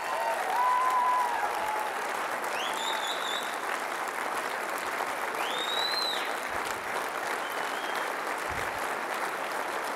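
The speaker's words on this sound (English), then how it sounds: "everyone in this room owes them a round of applause" A room full of people at a charity event applauds, a broad, sustained roar of clapping that stays even for several seconds, with faint whistles or cheers rising briefly above it.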